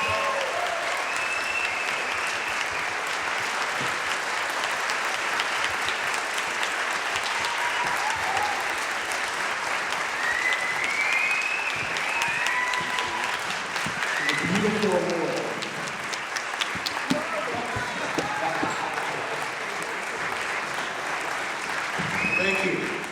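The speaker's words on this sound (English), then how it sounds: "let's give a great round of applause to my all-time favorite director" An audience gives director John Landis a long, sustained round of applause at a Q&A, a dense, even roar of clapping with a few voices faintly audible through it.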